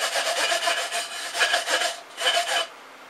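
Tin cans scrubbed with an ordinary dishpan scrubber, a close, rapid back-and-forth rasping in two bursts with short pauses, ending abruptly.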